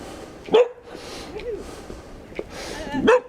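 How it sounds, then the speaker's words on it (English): Two dogs pass by on a chilly countryside ride, giving a couple of sharp, fairly close barks about two and a half seconds apart over soft outdoor background noise. "somebody coming now with 2 dogs"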